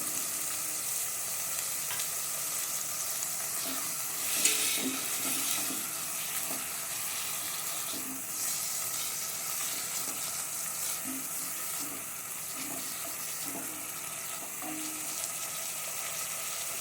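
Minced meat frying with four tablespoons of garlic-ginger paste for an egg keema pulao, a soft, continuous sizzle with light stirring clicks scattered through a long stretch, no voices.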